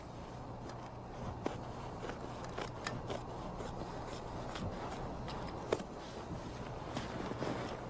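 Scissors snip through canvas on a ghillie suit made over a flight suit, a steady run of soft, close cuts with a few sharper clicks from the blades, quiet and without talk.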